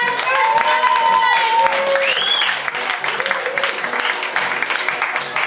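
Crowd at a poetry open mic slam clapping steadily, dense sustained applause that stays loud throughout, with voices and whoops rising over it.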